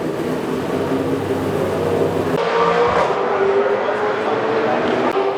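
A Supercars race car at the Townsville round pulls away from a standstill, its engine loud and close, rising steadily in pitch, with radio chatter from a team voice running over it.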